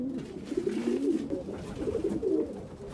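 Racing pigeons, middle-to-long-distance flyers, coo in low, rolling, overlapping calls that go on steadily, close and moderately loud, with faint background noise and no talking.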